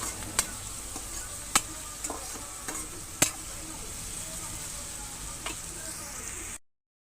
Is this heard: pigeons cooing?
no